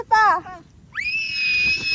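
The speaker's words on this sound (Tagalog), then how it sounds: "Oh, sigaw na, sigaw!" Someone shouts at a campsite in Tanay, Rizal, in a short wavering cry, followed by a long, loud sustained scream held steadily to the end.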